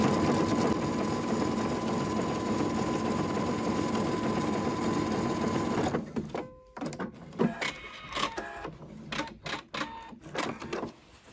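A domestic sewing machine stitches crazy patchwork from fabric scraps. It runs in a steady close whirring burst for about six seconds, then stops and starts in short stitching runs with pauses.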